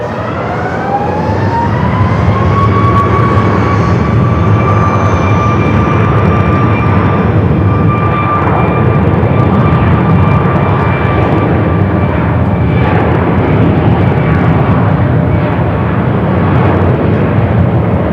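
A jet airliner spools up on the runway at Phoenix Sky Harbor airport, a loud, steady roar with a rising whine that holds close and strong for the whole stretch, with no talk over it.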